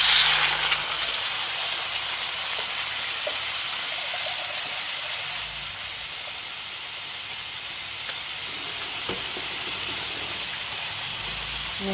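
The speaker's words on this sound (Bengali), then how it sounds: "একটু জল লাগবে, জল দিয়ে দিচ্ছি।" Water poured into a hot pan during cooking, giving a steady, loud broadband hiss and sizzle that starts at once and holds through the whole stretch, with faint kitchen noises underneath.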